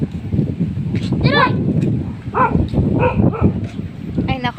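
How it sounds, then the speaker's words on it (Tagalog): A dog barks a few times in short bursts during a typhoon with strong signal-level winds, the barks mixed with wind noise and scattered background voices. "Ang aso ko na naman."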